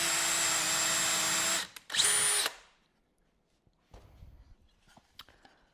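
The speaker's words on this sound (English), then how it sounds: "So I'm just going to drill this right now." A loud power drill whines steadily as it bores a hole into a wooden cutting board, stops, then revs again briefly before falling silent, followed by faint handling clatter.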